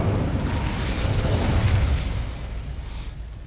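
An Incendio fire spell in Hogwarts Legacy erupts as a loud, broad rumbling whoosh that holds for about two seconds, then fades into a softer roaring tail, with no talking.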